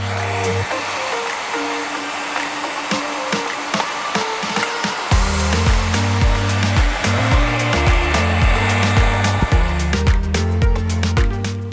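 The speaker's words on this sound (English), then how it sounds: "I've got my diffuser and I'm now going to start drying my hair" A hair dryer with a diffuser blows steadily at close range on curly hair, a constant whooshing hum that grows louder and deeper partway through, with rhythmic pulsing bursts.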